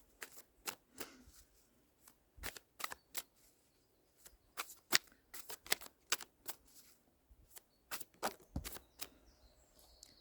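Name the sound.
shuffling and pulling tarot cards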